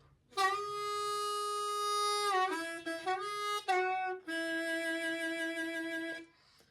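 A harmonica plays the first three measures of a song, with sustained reedy notes, a couple of bends and short breaks between phrases, played solo and close.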